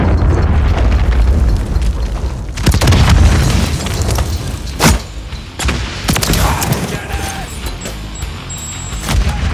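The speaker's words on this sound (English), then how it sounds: "Hostiles launched a cruise missile." Cruise missile explosion in Call of Duty MW3: a continuous deep rumbling roar with heavy low-end booms, sharp blasts around the middle, and debris crackle trailing off, loud and close.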